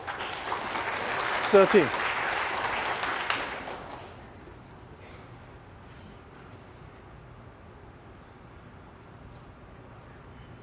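A snooker audience at the 2019 Shanghai final between O'Sullivan and Murphy bursts into applause for about four seconds, then it fades into a hushed arena where a voice briefly speaks.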